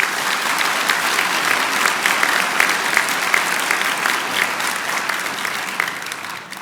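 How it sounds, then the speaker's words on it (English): A big round of applause for faculty and staff at a Humber spring college convocation, dense and steady clapping from a large audience that continues for several seconds before starting to thin out. "Let's give our faculty and staff a big round of applause."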